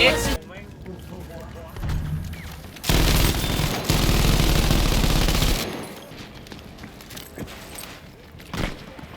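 Rapid automatic gunfire from Battlefield V bursts in loud and dense for about three seconds in the middle, with scattered lighter shots and battle noise before and after.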